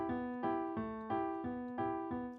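Cuban guajeo or montuno ostinato, a short syncopated phrase of bright pitched notes looping again and again in a steady groove, clear and fairly close with no voices.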